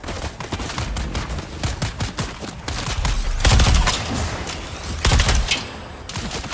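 Loud, rapid gunfire from the video game Dune Awakening, a dense, continuous barrage of overlapping shots and impacts that swells into heavier bursts partway through.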